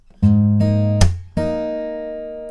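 Guitar playing the pattern from the song, a bass note, plucked high strings, a sharp percussive slap, then ringing high strings, four close, clean strokes in quick succession with no talking.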